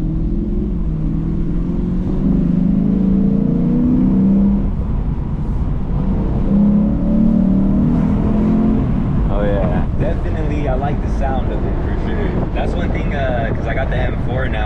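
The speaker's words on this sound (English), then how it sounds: "that V8, you can't beat that sound" A 2023 Lexus IS 500 F Sport V8 with active sound control turned all the way up, revving loud and steady as a deep exhaust drone rises and falls, with people talking over it near the end.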